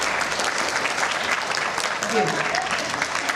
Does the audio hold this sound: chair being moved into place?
no